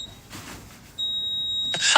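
A shrill, steady electronic beep from an alarm in a garage: a brief chirp, then a full one-second tone, ending with a sudden burst of noise nearby.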